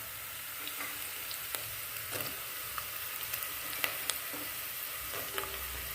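Bitter gourd frying in a pan with onions and turmeric: a steady close sizzle with scattered crackles and occasional stirring scrapes, no talking.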